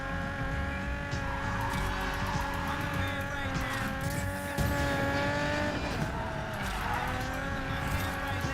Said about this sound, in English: So there are some corners here that really suck to drift on.